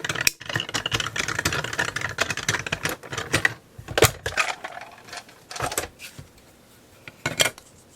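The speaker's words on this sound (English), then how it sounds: "I've got a little mini die cutter here, which is handy for desktop die cutting in a pinch." Mini desktop die cutter running card pieces through, giving a series of clicking, clattering mechanical bursts with short pauses between them, fairly quiet and close.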